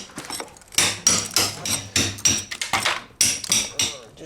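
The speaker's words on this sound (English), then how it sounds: "Just using a regular chisel, getting it all out of there." A hammer strikes a regular chisel chipping out a crack in a concrete foundation, sharp ringing blows landing in a quick, slightly uneven rhythm, about a dozen hits, close and loud.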